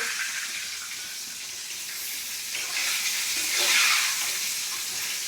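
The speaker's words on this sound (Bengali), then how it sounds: "আর এখানে মাছ ভাজা হচ্ছে।" Fish frying in a pan gives a steady, close hiss and crackle that swells a little midway, with no talking over it.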